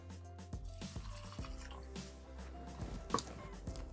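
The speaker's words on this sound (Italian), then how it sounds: "Aggiungiamo l'acqua," Water being poured into a Thermomix for lemon risotto, heard as a quiet liquid splashing and dripping up close with a few small knocks, faint and brief with no talk.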